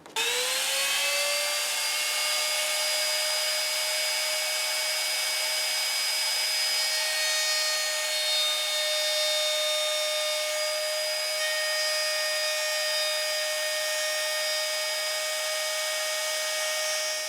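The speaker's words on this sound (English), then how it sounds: "we use this teeny tiny little router bit with a bearing on it to follow the template around" A small bearing-guided router bit whines steadily as it cuts an F-hole through a Les Paul guitar body, a loud high-pitched motor tone held close and continuous for the whole stretch with slight shifts in pitch.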